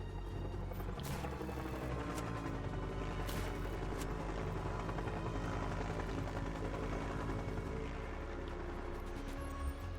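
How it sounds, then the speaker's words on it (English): A helicopter in a video game sea heist drones steadily with a low, continuous rotor and engine rumble that fills the whole stretch, loud and unbroken, with faint game noises layered over it. "One of my crew is on his way with the chopper."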